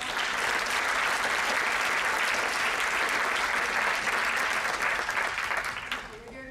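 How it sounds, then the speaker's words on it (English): A steady round of applause from a university audience at an evening event, dense continuous clapping filling the room at a roughly even level before tapering off near the end. "if you could just give a little bit of round of applause"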